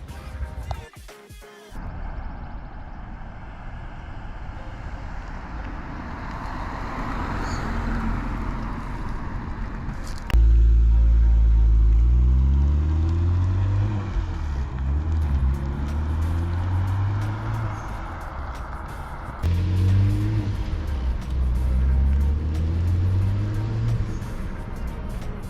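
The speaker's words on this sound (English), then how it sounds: "I'll get my first test drive in," A BMW on its first short test drive gives a steady interior engine drone and road rumble. It shifts abruptly partway through into a louder, deeper hum with rising engine tones as it accelerates through the gears.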